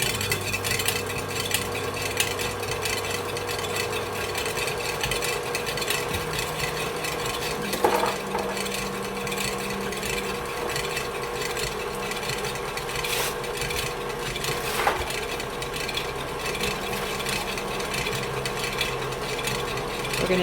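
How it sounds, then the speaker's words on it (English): An electric mixer creams softened butter with a steady mechanical whir and grinding, plus occasional louder rattles and knocks, close and continuous, with no voices. "We're going to put that in our mixer and start to mix it up until it's nice and creamy."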